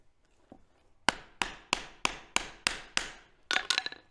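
Hammer blows drive a wooden wedge down into the handle of a Harbor Freight hammer being converted to a soft face hammer: about seven sharp, evenly spaced wooden strikes, close and loud, after a faint tap, with a quick flurry of lighter hits at the end.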